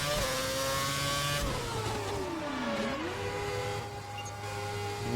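Race car in an F1 video game, 2011 Japan round, slowing through the chicane and into the pits: a loud continuous engine whine that drops in pitch as it decelerates, then settles into a steady pit-lane drone, close and alone.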